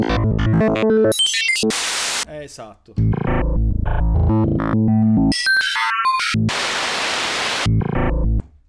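Roland D-50 synthesizer playing PCM samples, including a long white-noise sample: loud bursts of broadband hiss alternate with choppy looped tones and glitchy fragments, and a voice speaks briefly.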